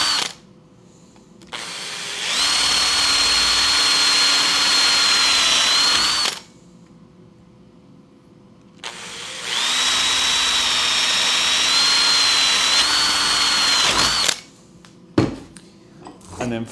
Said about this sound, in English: sometimes I'll do the drilling for them